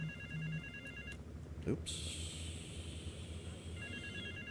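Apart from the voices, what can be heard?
mobile phone ringing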